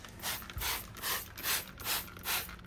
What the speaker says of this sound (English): So I'm just going to spray it on.